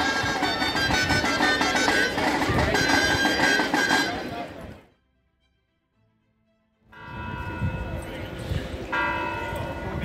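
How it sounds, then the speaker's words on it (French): A cathedral church bell rings loudly with rich overlapping tones, breaks off into near silence for a couple of seconds, then resumes ringing strongly. "la cloche sonne"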